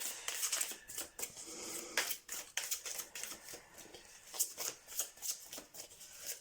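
Oracle cards being shuffled by hand, a run of close, crisp riffling and flicking bursts in an uneven rhythm, fairly quiet, with no talking.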